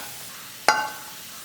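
Five chopped small onions drop into hot oil for chutney, a single sharp sizzle that rises and fades over about a second.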